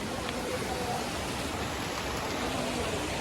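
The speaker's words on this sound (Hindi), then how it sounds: "यहाँ पे होटल की साइड पे ना वाटरफॉल चलता होता है" A waterfall rushes beside a hotel, giving a steady, dense roar of falling water that fills the clip evenly from start to finish without a break.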